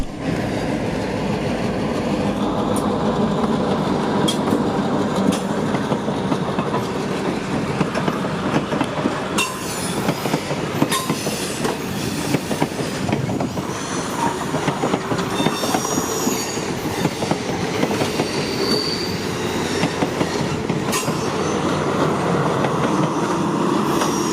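A Reading & Northern Gorge passenger train rolls steadily past on the rails toward Jim Thorpe, loud and close, with rhythmic clattering wheels and occasional high squeals throughout.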